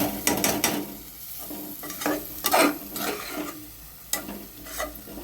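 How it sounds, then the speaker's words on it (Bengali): Moong dal is stirred and fried with an onion spice paste, a spatula scraping repeatedly through the pan over a soft, continuous sizzle, heard up close without talking. "ডালটাকে একটু কষে নেব পেঁয়াজ মশলাটার সাথে।"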